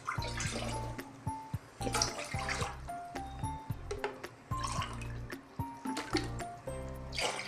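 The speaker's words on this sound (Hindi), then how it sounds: "और अब हमने इसमें 3 कप पानी डालना है" Water pours and splashes into a pan in uneven bursts, with clinking and dripping sounds throughout, close by and moderately loud.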